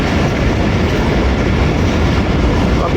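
The Rehman Baba Express passenger train approaches Jhelum railway station in Pakistan, rolling along the rails with a loud, steady, close-up rumble and a continuous wheel clatter, and no voices over it.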